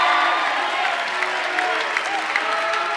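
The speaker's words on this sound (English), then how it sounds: "Now, is that mooing or booing?" Comedy club audience in 1989, largely Cubs fans, responds with a steady mass of crowd noise, a broad murmuring roar of many voices with scattered claps, moderately loud and sustained throughout.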